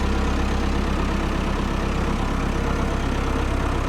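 A 1996 Massey Ferguson 398 tractor, a 90 hp English-built machine, runs steadily with a low, even engine drone while gears are shifted, with no talk over it.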